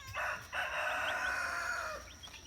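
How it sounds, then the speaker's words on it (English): A silkie rooster crows once in a single drawn-out call from inside an indoor brooder shared with hens, fairly close and clear against a quiet background. "it looks like I have a rooster back there with the 2 hens"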